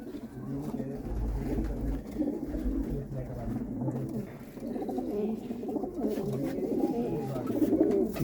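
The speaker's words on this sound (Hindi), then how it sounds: "सबस्पर है और पटियाले कबूतर हैं।" Patiala pigeons coo continuously in low, throaty rolling calls, several birds of a large flock overlapping close by in Ballimaran, Old Delhi, with a steady murmuring background.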